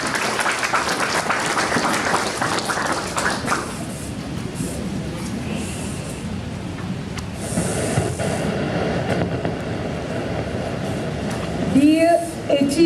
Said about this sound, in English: Please give a big applause for welcome Dr.